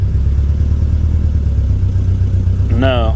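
Engine of a cheap Chevrolet Camaro SS salvage car, in gear but not moving, idling in a steady low rumble close by with a brief rising rev at the end.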